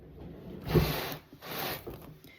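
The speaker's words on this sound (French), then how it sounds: "je vais pouvoir le découper parce qu'il a bien refroidi" Knife sawing through a crusty homemade loaf baked in a cast-iron pot, heard as two close, soft rasping strokes of the blade crunching through the crust, quiet and with no talking.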